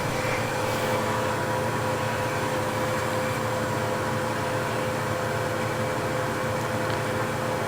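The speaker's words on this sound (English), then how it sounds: "And we'll drill a depth hole." Drill boring a depth hole into a piece of wood spinning on a woodturning lathe, a steady, loud, even whir with broadband hiss and a constant tone throughout, no talking.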